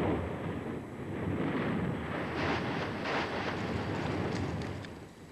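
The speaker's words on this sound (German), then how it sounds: "Der Gasdruck steigert sich allmählich, bis es schließlich zur Explosion kommt." A volcanic explosion in the central crater of Mount Etna sounds as a sustained, roaring rumble with broad noisy bursts. It is heavily buffeted by wind on the microphone, and no voices are heard.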